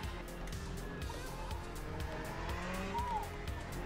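A race car in a Le Mans racing video game spins out with tire squeal and skidding over a constant loud engine roar, the squeal rising briefly near the end.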